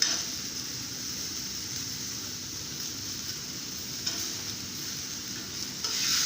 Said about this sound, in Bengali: দিয়ে এগুলোকে একটু ভালো করে ভেজে নেব